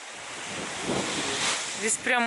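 Sea waves wash onto an amber beach in a steady roar with gusting wind buffeting the microphone, and a voice speaks briefly at the end.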